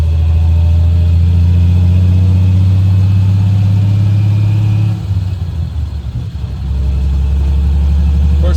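A 1973 Triumph TR6 on a back-road test drive after exhaust installation gives a loud, close engine drone that rises, dips briefly as it shifts, then settles back into a steady hum.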